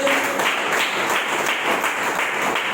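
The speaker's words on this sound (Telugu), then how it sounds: "చప్పట్లు కొట్టేసి మెచ్చండి" Church congregation clapping during Sunday worship, a dense steady wash of many hands applauding together in a reverberant hall, continuous and fairly loud throughout.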